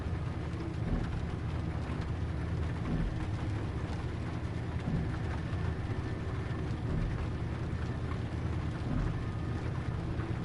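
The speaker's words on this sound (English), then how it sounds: "the sound of the rain on the roof of the train is quite nice as well" Rain drums steadily on a train roof over a continuous low train rumble in the video game Train Life: A Railway Simulator, an even, unbroken wash of noise.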